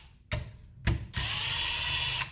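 A power drill used to remove the top caps of a DNT Zulus 4K digital scope gives two short bursts and then one longer steady whir, close and fairly loud.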